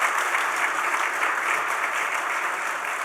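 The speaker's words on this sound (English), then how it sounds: "So if we could all please give Ellen a round of applause" An audience gives a round of applause for Ellen at an evening charterholder presentation and acknowledgements event, even and continuous clapping from many hands in a room, with no talk over it.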